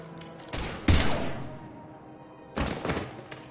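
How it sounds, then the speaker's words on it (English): Gunfire in Mass Effect Legendary Edition comes in two loud bursts of rapid shots with heavy thumps, separated by a quieter lull. "Now open fire!"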